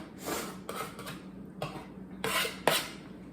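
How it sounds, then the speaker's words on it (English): Fresh corn kernels scraped off the cob into a pot, heard as close, rough scraping strokes in several short bursts with pauses between them. "So now I'm going to scrape all of my corn into my boiler"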